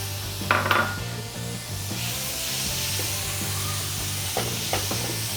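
Diced mango caramelizing in a hot pan for a tropical burger topping, with a steady sizzle under clinking, scraping stirring strokes that pick up near the start and again toward the end. No voices.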